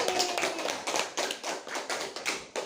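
A classroom of students claps for a classmate after her group presentation. The hands strike in close, uneven bursts that swell and drop several times, loud and near.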